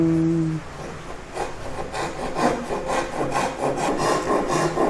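A Ryobi 180 Japanese pull saw with a 180 mm blade cuts wood for a live edge console table, making close, rhythmic rasping strokes that follow a brief tonal sound.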